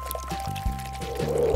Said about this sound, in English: We're gonna need more water inside of our container.